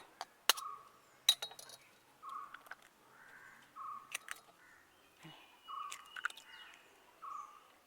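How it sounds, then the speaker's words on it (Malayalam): A few sharp, irregularly spaced cracks and clinks of five hen's eggs knocked against a bowl, with faint chirpy tones drifting in between. "ഇനി നമുക്കൊരു അഞ്ച് കോഴിമുട്ട പാത്രത്തിലേക്ക് പൊട്ടിച്ചൊഴിക്കാം"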